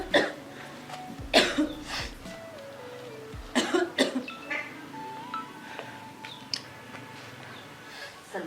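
A girl coughs indoors at night, several short bursts spread across a quiet room, with faint voices and small domestic noises around them.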